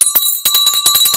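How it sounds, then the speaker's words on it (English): A stock market closing bell rings in rapid repeated strikes, loud and close, with a steady sustained tone humming beneath the clanging pulses. "First of all, the bell."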